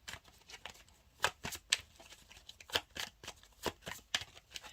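Tarot oracle cards are shuffled up close, a run of sharp papery riffles and flicks in a quick, uneven rhythm, soft overall with no talk.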